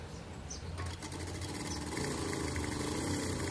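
A sewing machine stitches dress straps for a long dress, a steady rapid mechanical hum and needle chatter that picks up speed and grows slightly louder, running on its own without talk.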